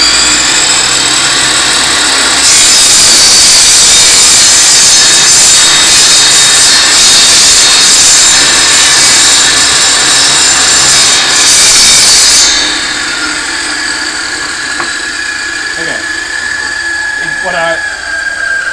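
A power saw cuts through wood in a blind person's woodworking shop, a loud, steady, high whining roar lasting about ten seconds before cutting off. A quieter mechanical hum with faint knocks follows.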